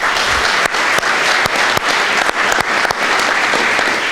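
Audience at a press conference for eight new firefighters claps loudly and steadily, a dense, even wash of applause with a few sharper individual claps standing out.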